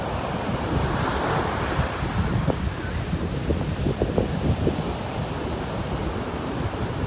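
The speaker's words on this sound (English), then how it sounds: "How far back the waves are going." Ocean waves wash steadily onto the shore in a continuous roar of surf, loud and close, with wind buffeting the microphone throughout.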